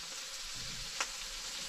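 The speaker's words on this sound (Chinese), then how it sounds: "哦，弄热了，在那里炒菜" Vegetables stir-fry in a pan in a campervan kitchen, giving a soft, steady sizzle with a brief sharp crackle partway through; no one speaks.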